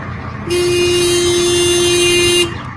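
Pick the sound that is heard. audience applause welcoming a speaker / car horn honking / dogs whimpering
car horn honking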